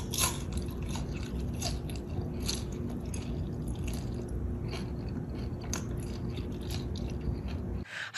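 Crisp biting and chewing on a pan-fried rice paper dumpling, golden and crunchy on both sides, with soft crackling crunches close to the mic over a faint steady background hum.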